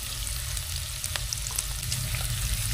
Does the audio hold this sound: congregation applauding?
no